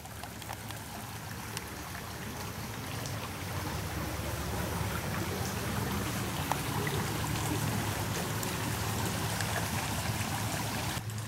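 Water in Frog Creek flows in a steady, unbroken rush, even and fairly close, with no voices.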